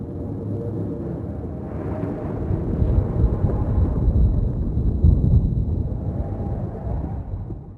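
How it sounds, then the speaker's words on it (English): Distant thunder in The Longest Journey, a low rolling rumble that swells and fades over several seconds with no voices. "It sounds like distant thunder."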